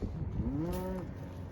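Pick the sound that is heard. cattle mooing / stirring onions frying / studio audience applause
cattle mooing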